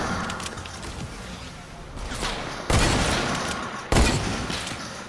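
Desert Eagle pistol shots ring out in a Fortnite match, two sharp, loud cracks about a second apart over busy game noise and a faint voice.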